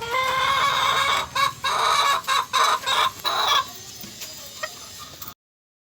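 Bantam chickens in a small backyard poultry pen, clucking and crowing close by in several loud bursts that fade into quieter background noise before ending abruptly.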